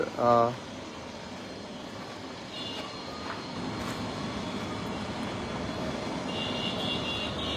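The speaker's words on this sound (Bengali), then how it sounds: "এখন হেলিকপ্টার নামতেছে" A helicopter comes down onto the football stadium in Mymensingh, its engine a steady broadband roar mixed with the noise of a large outdoor crowd for the whole stretch, with a short loud thump at the start.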